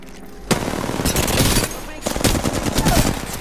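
Automatic weapon fire in Apex Legends: two loud, close bursts of rapid shots separated by a brief pause, with a player's voice faintly mixed underneath.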